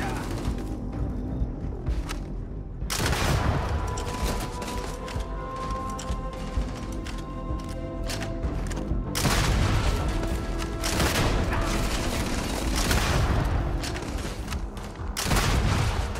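Rapid bursts of gunfire with booms and crashes in the video game Starfield, dense and loud throughout, with a voice talking over the action.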